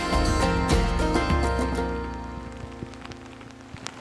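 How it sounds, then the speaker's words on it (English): Rain strikes a tent pitched at a backcountry campsite in the High Sierra, a dense steady patter just overhead that starts loud and thins out a little over a few seconds, with no voices. "Absolutely perfect timing, as it's just gone from sprinkle to rain."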